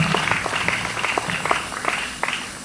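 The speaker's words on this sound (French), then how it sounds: "j'aimerais que des applaudissements l'accompagnent" An audience applauds as a woman leaves the podium to return to her seat at a ceremony, with steady, dense clapping that holds at an even level throughout.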